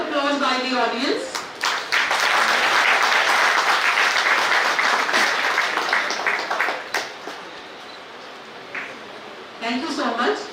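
Audience applause fills a hall at a national convention of mechanical engineers, a loud, dense wash of clapping that swells and holds for several seconds, with a voice speaking over the start and again as it fades near the end.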